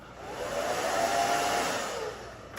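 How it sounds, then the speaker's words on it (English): A blow dryer runs close up on a woman's layered bob haircut, with a steady whooshing roar that swells slightly and then eases off. "now let me take the blow dryer"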